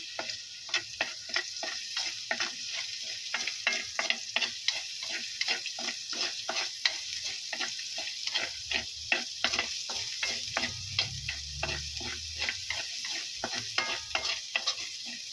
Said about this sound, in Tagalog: So igisa po muna natin yung bawang.